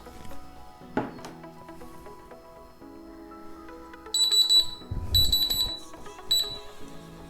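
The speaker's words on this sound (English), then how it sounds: "set a timer for 10 minutes" A kitchen timer alarm goes off after a ten-minute gluten test, giving repeated bursts of high electronic beeping in short clusters. The beeping is clear and close, and there is no talk.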